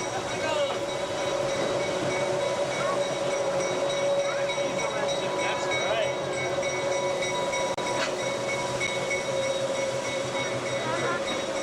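Steady rumble of a steam locomotive working nearby, with a sustained mechanical tone and occasional clanks, while people talk over it.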